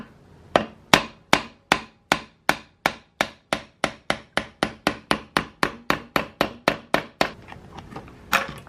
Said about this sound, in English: you basically just take a hammer, punch it through, and that should be all you need to release